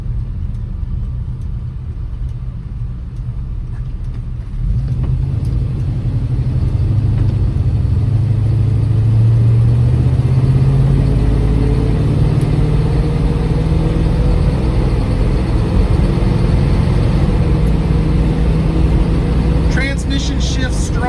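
A 1952 Pontiac Chieftain De Luxe Catalina V8 running with the air conditioning on, its deep engine drone rising in level after a few seconds and holding a loud, steady rumble close by.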